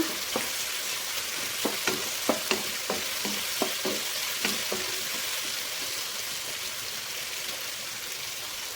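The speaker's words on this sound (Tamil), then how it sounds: "சுரக்கா வந்து நல்லாவே வெந்துருச்சு எண்ணெயிலே ஒரு நிமிஷம் நல்லா வணக்கிக்கோங்க" Bottle gourd sautéing in hot oil in a pan gives a steady, soft sizzle, broken by a run of sharp clicks and scrapes from stirring in the first half, then settling into an even fry.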